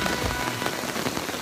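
Rain patters steadily on a hammock rain fly outdoors in Van Buren, Missouri, a dense, even hiss of drops with scattered sharper taps close by and no voices.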